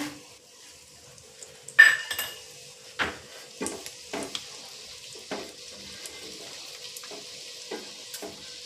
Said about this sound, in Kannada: ಎಣ್ಣೆ ಕಾದಿದೆ. ಇವಾಗ ಕಡಲೆಬೇಳೆ ಹಾಕಬೇಕು.